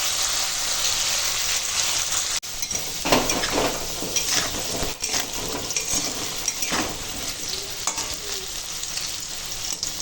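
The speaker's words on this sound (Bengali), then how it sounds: "কি সুন্দর করে ভাজা হয়ে যাচ্ছে" Round potato slices sizzle and crackle steadily as they fry in a pan, with occasional scraping and stirring noises; no one speaks.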